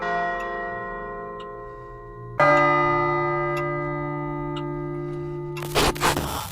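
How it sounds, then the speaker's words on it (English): A clock chimes in a Fredbear horror video game, loud resonant bell strikes ringing out one after another with long sustained tones over a faint ticking, ending in a burst of noise. "the clock starts chiming."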